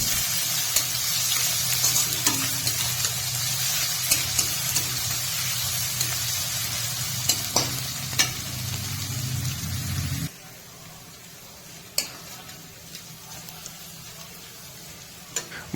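Chopped onion with ginger-garlic paste frying in a pan for a Bengali chicken skin curry, a steady broadband sizzle with scraping stirs that cuts off abruptly, leaving a quieter pan with a few sharp clinks.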